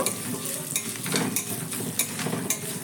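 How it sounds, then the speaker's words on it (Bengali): Chopped coconut fries in hot oil, giving a steady close sizzle with stirring scrapes recurring every half second or so, no voices. "এবার নারকেলটাকে আমি এক মিনিট মতো এই তেলের সঙ্গে ভেজে নেব"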